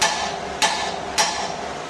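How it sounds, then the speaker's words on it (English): A hammer strikes a ball joint on a 2006 GMC Sierra 2500 truck to pop it loose, three sharp metallic blows spaced about half a second apart, close and clear with no talking. "So the way that I've been taught is you just take a hammer"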